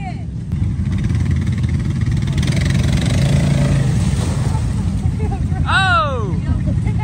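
A Polaris Sportsman ATV engine churns through deep mud holes, a steady loud drone that holds throughout, with people talking and shouting over it.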